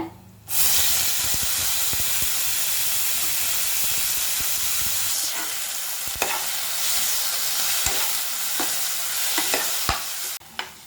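Onions and tomatoes fry in a pan for a Mangalore-style fish curry, a loud steady sizzle and steamy hiss with occasional stirring clacks, running nearly unbroken after a quiet start and cutting off near the end.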